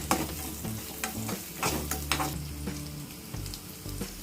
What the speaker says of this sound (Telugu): కట్ చేసి పెట్టుకున్న మామిడికాయ ముక్కలను పూర్తిగా యాడ్ చేసుకొని ఒక రెండు నిమిషాల పాటు మీడియం ఫ్లేమ్లో బాగా దూరగా వేగనివ్వాలి